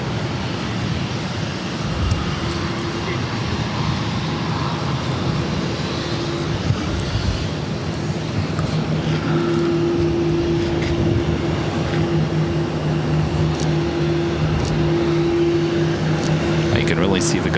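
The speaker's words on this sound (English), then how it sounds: "this is Korean Air Flight 92 taking off to Seoul on the 777-300ER" A Korean Air Boeing 777-300ER takes off from Boston Logan, a sustained jet engine roar and whine that builds gradually and holds at moderate distance, with background voices mixed in.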